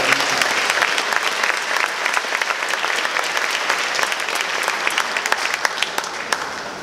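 Sustained, dense applause from an audience at a youth baseball awards ceremony, steady and loud throughout without pause, with a few sharper claps standing out near the end.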